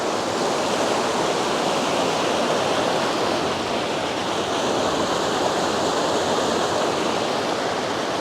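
A waterfall pours in a steady, loud, broadband rush of running water, close and continuous with no voices over it, set outdoors somewhere in Peru.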